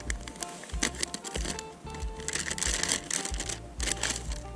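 Plastic packaging of an American MRE field ration is torn and crinkled open up close, a quick series of sharp crackles and rustles in uneven bursts.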